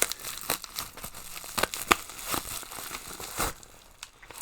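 Parcel packaging is torn and opened up close, with plastic and paper crinkling, rustling and short ripping bursts in an irregular rhythm, fairly quiet and with no talk.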